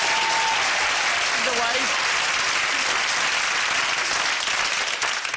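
Studio audience on a TV game show breaking into steady, loud applause that fills the whole stretch, with a brief voice heard over the clapping.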